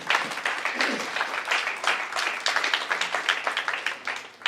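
A church congregation claps and cheers in praise, a steady, lively patter of many hands sustained throughout, fairly close and full, with a few voices mixed in.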